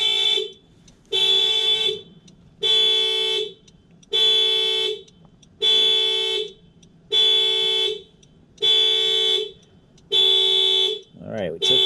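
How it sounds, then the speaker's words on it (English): A 2020 Honda CR-V horn blares in long, evenly spaced blasts about a second apart, loud and close. Eight repeats run back to back, and a voice breaks in briefly at the end. "Please turn that horn off."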